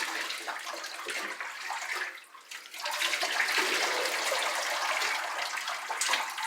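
Running water rinses a long-haired Labradoodle during a bath, a steady broadband wash that keeps going with a short dip partway through, close and fairly loud, with no talking.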